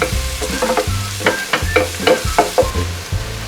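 Garlic and onion fry in a pan with a bright sizzle, broken by a run of quick spoon scrapes and knocks against the pan.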